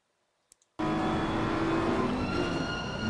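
BMW race car in Assetto Corsa Competizione: after near silence and two faint clicks, a loud engine drone cuts in abruptly and holds steady, close and sustained to the end.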